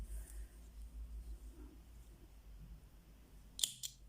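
Scissors cut knitting yarn while making knitted baby booties: two quick, crisp snips near the end of an otherwise quiet stretch with low background hum.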